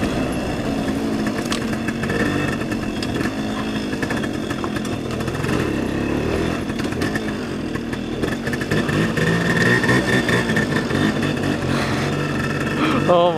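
A 1975 Suzuki RV-90 motorcycle engine runs with a continuous buzzing two-stroke drone that holds steady and swells slightly near the end, while a person talks over it.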